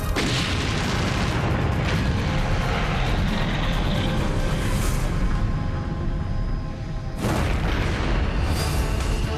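A catastrophic explosion after a fuel tank fire set off by a faulty filling-hose coupling at an underground tank: a loud, sustained rumbling roar with a brief dip and a renewed burst near the end.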